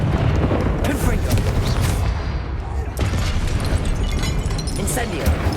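A Confringo blasting spell in Hogwarts Legacy goes off as loud, close booming explosions with rumbling bursts that come in quick succession over combat noise, while a voice talks over the action.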